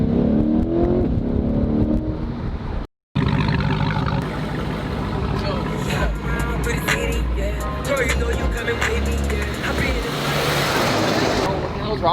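A damaged 2020 Chevrolet C8 Corvette revving loudly outdoors: a continuous, dense engine roar that builds and swells over several seconds, with a brief cutout early on.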